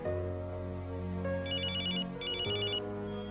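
An electronic phone ringtone plays in a melodic pattern, with two bright bursts of repeating tones near the middle, moderately loud indoors over a quiet background.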